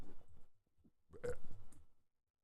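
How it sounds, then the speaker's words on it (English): A croaky, voiced burp in two rough bursts, the second longer and louder, heard close with quiet gaps around it. "Burp."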